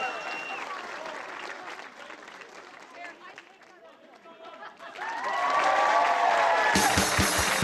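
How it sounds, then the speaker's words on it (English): A studio audience on a TV show bursts into applause and cheering, clapping rising after a brief lull into a loud, sustained roar of cheers and claps. "Before we go back in there, one big cheer."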